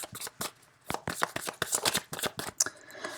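Tarot cards are shuffled by hand in a quiet room, giving a series of crisp, papery riffles and slaps in irregular bursts, close and fairly soft, with no talking.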